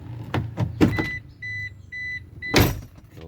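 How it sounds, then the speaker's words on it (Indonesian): Inside a car fitted with an aftermarket keyless start-stop button, three short, thin electronic beeps sound as the door opens, framed by dull door thumps and handling clatter. "dia kalau dibuka pintunya dia selalu bunyi sih"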